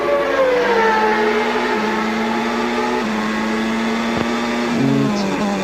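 Onboard a 1994 Williams-Renault Formula 1 car, a piercing high-revving engine whine holds steady, then drops sharply through downshifts and climbs again, loud and close; commentary voices sit faintly beneath the engine.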